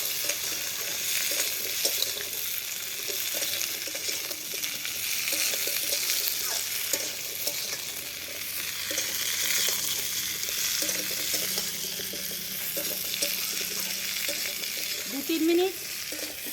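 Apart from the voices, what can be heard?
vegetables frying in a pan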